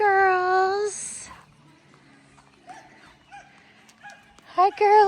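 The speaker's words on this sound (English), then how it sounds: "What dog is that? That's a new sounding dog." A dog lets out a loud, drawn-out whining howl up close, then a few short yips and whimpers after a quiet pause, with people talking in the background.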